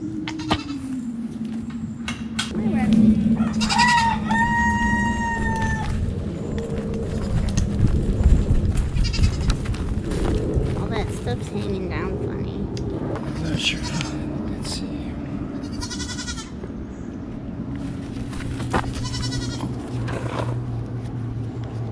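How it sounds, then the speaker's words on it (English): Goats on a breeding farm bleat repeatedly, several loud nearby calls spread through the clip, with people talking and shuffling movement in between. "Hey, stinky goat."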